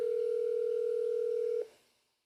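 A cell phone dial tone heard while placing a call: a steady, clean electronic hum holding close and loud for about a second and a half, then cutting off abruptly and fading into silence.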